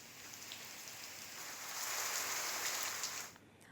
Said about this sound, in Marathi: मान्सून पूर्व पावसाच्या सरी बरसल्या